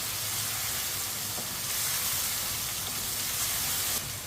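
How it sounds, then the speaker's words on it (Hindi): Chicken fries in a pan over a medium flame for a turnip and chicken shalgam dish. A dense, steady sizzle and hiss runs throughout, close and even, with no voices. "अब इसे 2-3 मिनट के लिए फ्राई कर लेते हैं।"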